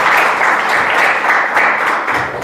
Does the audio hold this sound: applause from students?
yes